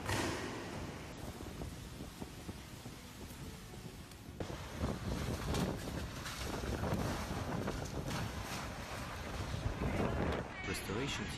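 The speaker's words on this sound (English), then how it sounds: "风大" Strong storm winds gust and buffet the microphone in a roaring, continuous rush that swells louder toward the end, with people speaking faintly underneath.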